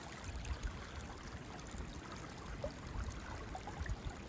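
Spring water flowing steadily out from under a rock in a forest, a soft continuous trickling wash with faint low gurgles underneath, heard alone at low level.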